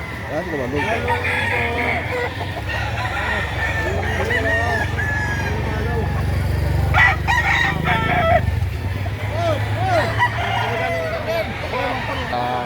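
A rooster crows loudly amid steady chicken clucking at a chicken market in Lipa, Batangas, Philippines, with voices murmuring in the background of a busy outdoor setting.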